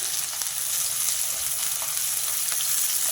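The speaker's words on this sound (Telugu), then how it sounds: "ఈ ఉల్లిపాయలు కొంచెం ఈ కూరకి ఎర్రగా ఏగితేనే బాగుంటాయి" Sliced onions fry in oil with bay leaf and cumin for a chicken gravy curry, an even, dense sizzle that holds steady and close throughout.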